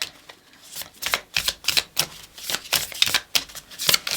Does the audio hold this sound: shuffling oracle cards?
yes